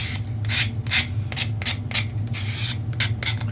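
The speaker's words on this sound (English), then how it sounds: "let's just quick give this a little sanding. I just want to distress the edges" Hand sanding roughens the edges of a wooden cookbook stand, close, loud rhythmic rasping strokes repeating about twice a second over a low background hum.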